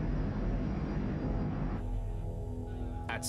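US Air flight 427, an airliner, approaches Pittsburgh on a clear, windless evening: a steady, fairly close engine drone that eases slightly partway through, ending with a brief click.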